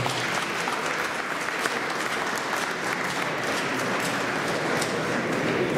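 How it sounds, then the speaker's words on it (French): Sustained applause from a dinner audience at an annual gala in Paris, dense steady clapping filling the room throughout without a break. "Vous pouvez applaudir."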